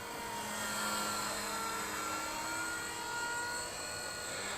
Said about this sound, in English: So I would say that this is a nice beginner heli.